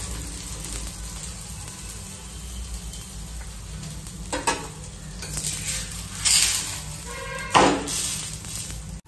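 A paratha fries in a pan with ghee, giving a steady close sizzle under the quiet, broken by several louder bursts of hissing and scraping as it is pressed and turned, with no voices.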